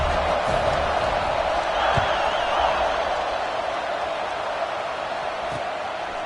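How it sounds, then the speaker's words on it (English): A college football stadium crowd roars after a touchdown drive, a loud, sustained wall of massed voices and cheering that holds steady throughout. "this crowd is feeling themselves after that last drive"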